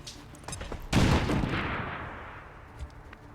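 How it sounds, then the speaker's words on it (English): A grenade thrown in the XCOM 2 video game bursts into a loud, booming explosion that rumbles and fades over a couple of seconds, with a few faint crackles before the blast. "I cannot lose this operator, so I'm gonna just throw the grenade."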